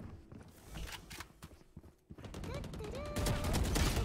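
Rifle fire in the Valorant shooter game, a few sharp shots and bursts heard close over game sounds, with someone talking during part of it.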